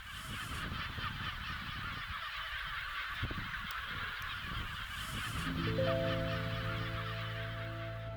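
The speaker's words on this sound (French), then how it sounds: "il y a une belle colonie de goélands" An Armenian gull colony at Lake Sevan calls continuously, many loud harsh honking and yelping cries overlapping in a dense, near chorus with no pauses.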